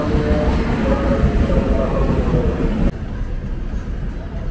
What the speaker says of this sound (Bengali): মানে এত ট্রেন যাচ্ছে, আমি ওই জন্য রেকর্ডিংটা বন্ধ করে দিলাম।